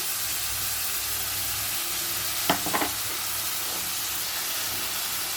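Onions with turmeric fried in a pan, a steady low sizzle and hiss with a short burst of stirring scrapes partway through.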